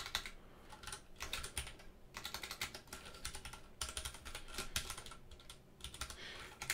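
Fingers type steadily on a computer keyboard, producing quick clusters of close, clicky keystrokes with brief pauses between them. The typing is for a Unity game tutorial. No one speaks.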